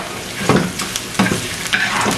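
Dried red chillies and curry leaves sauté in a pan for sambal powder, with a loud, close sizzle and three or four distinct scraping stir strokes, no one talking.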